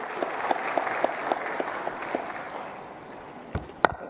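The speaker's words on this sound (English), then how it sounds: "Some more claps, please." A conference audience in Tanzania claps, with scattered individual claps standing out over a brief round of applause that thins out, ending with a couple of louder isolated claps.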